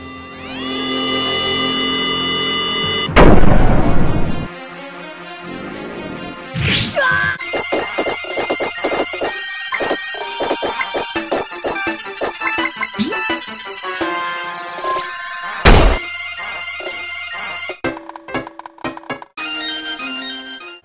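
A special attack effect from the video game Dragon Force 2, with a loud crashing burst, sweeping zings and a rapid series of sharp metallic strikes and chimes, punctuated by another heavy impact and closing with sustained tones.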